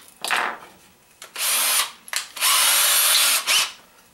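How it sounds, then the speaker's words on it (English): A power drill bores a ferrule hole into a wooden guitar headstock in several short bursts, spinning up loud and close with brief pauses between runs. "you drill your ferrule hole first"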